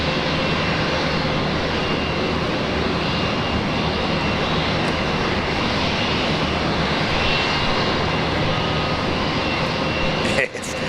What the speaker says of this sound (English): there's a 320 from Jetstar coming into the sequence